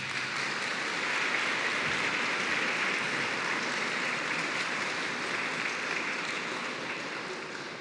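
Students applauding at a school ceremony, a continuous steady wash of many hands clapping from a distance, filling the whole stretch without talk.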